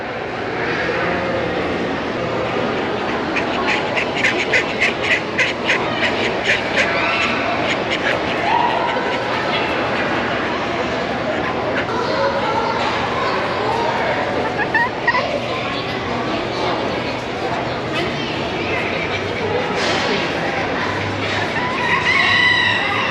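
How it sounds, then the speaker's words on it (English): A barn full of clucking chickens and gobbling turkeys at a county fair, a dense continuous chorus of poultry calls with a person talking over it. "Lots more chickens and turkeys."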